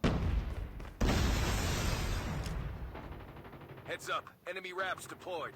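Gunfire in the mobile shooter Call of Duty Mobile, with a heavy burst of shots followed by scattered booms, and a voice talking over the later part.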